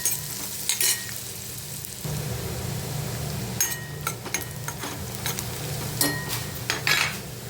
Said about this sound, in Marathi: आता बारीक चिरलेला कांदा टाकूया कांदा व्यवस्थित परतून घ्यायचा आपल्याला